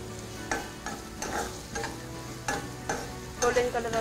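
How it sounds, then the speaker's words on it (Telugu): Chopped onions fry in a pan, a continuous sizzle broken by regular scraping stirs every half second or so, close and clear with no voices. "మంచిగా ఫ్రై చేయాలి మనం,"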